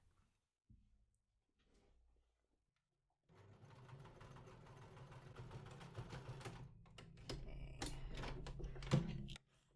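A sewing machine stitching around the hem of oversized shorts, starting after a few soft handling clicks, then running in close, steady bursts of rapid mechanical chatter that speed up toward the end.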